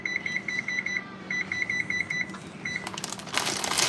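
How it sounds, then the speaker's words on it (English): A kitchen oven's control panel beeps in rapid bursts of evenly spaced high tones while the temperature is set to 425, followed by clatter and rustling nearby. "turn the oven up to 425"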